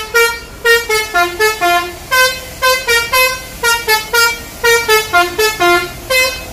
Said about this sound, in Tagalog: 4-feet na air horn